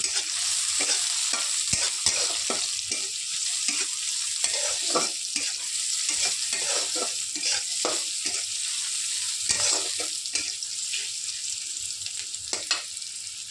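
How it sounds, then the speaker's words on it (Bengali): Onions frying in a pan while pasta with egg is prepared, a steady sizzle with frequent scraping stir strokes, close and fairly loud throughout with no talking. "পেঁয়াজটা ভেজে নিচ্ছি।"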